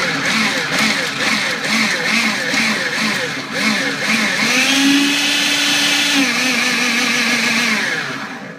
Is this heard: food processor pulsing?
yes